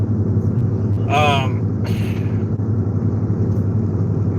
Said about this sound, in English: The car just has a gorgeous sound.